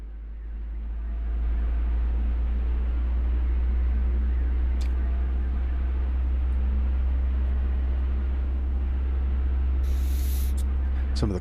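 A Boeing 737 MAX 8's number one engine spooling up in Microsoft Flight Simulator 2020: a deep, steady low rumble and broad hiss swell over the first second, then hold loud and constant, with a brief high hiss near the end.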